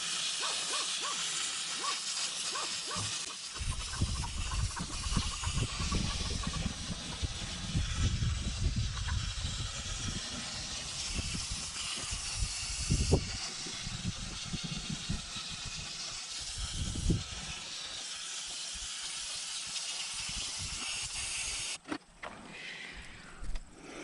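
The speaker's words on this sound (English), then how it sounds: "Low pressure water, it should just blow all the stuff right out." Low-pressure water spray hisses steadily across the radiator of a 2019 Yamaha Grizzly 700 ATV, a broad continuous rush lasting nearly the whole stretch before cutting off near the end.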